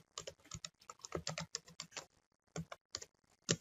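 Fingers tap out bursts of keystrokes on a computer keyboard while an email function is being written, close and crisp, in quick irregular clusters separated by brief pauses, with no voices.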